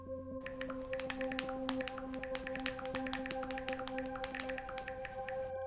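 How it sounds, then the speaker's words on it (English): Acrylic nails click rapidly on a phone screen, crisp, bright taps falling in a quick, uneven patter close to the mic, with a faint tonal hum sitting underneath. "here's the sound of you sharing this podcast with all your friends with a fresh set of acrylic nails"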